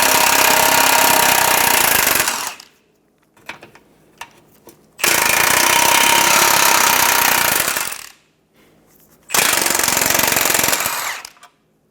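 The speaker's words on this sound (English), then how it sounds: "Remove the 3 14mm nuts." Three long bursts of a loud pneumatic impact wrench spinning off 14mm nuts from the front transmission mount on a 2014-2019 Toyota Highlander, each hammering run separated by short pauses with faint clatter, no talking.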